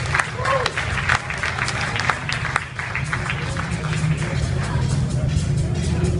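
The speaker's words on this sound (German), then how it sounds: "Riesen Applaus" A crowd at a motorcycle show claps loudly and steadily, a dense burst of applause with some voices mixed into the noise.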